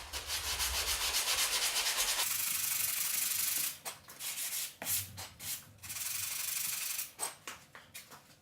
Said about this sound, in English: So just going to start with my sanding again to get the extra fill off.